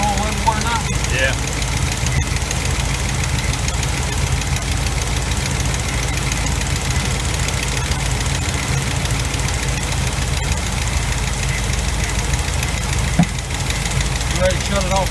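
A 1986 GMC Sierra with a 400 small-block V8 idles with a steady rumble and a fast, continuous tapping from loosened valves, loud and close, with the engine noise filling the whole stretch.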